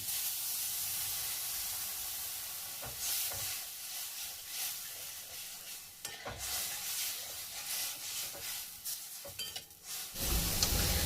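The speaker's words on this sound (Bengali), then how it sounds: "দিয়ে দেবো জল।" Water poured into a hot pan of semolina upma gives a loud hissing sizzle that rises and falls in bursts with stirring, then flares sharply again near the end, with no talk.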